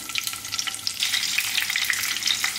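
Capsicum pieces laid into hot cooking oil with cumin seeds sizzle and crackle steadily, a close, bright frying hiss with small pops throughout.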